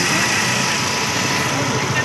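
A motorcycle engine runs steadily during a Sikh wedding procession in Kartarpur, a continuous, fairly loud hum blended with broad outdoor noise, with voices in the mix.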